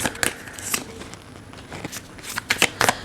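Tarot cards being shuffled and drawn, a series of quick, crisp card flicks and slaps close by in irregular bursts, some clustered near the end, with no talking.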